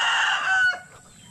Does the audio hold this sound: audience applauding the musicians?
no